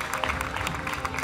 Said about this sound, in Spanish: Aplausos para Sabrina